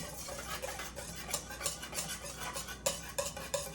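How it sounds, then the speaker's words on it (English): A whisk stirs crème brûlée custard in a pan, making a steady run of light metallic clinks and scrapes that repeat in a quick, fairly even rhythm, close up and with no voices. "Keep stirring, keep stirring, keep stirring."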